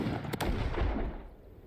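Gunshots in the video game This Land is my Land: a quick pair of sharp, loud cracks early on, then a rumbling tail that fades out.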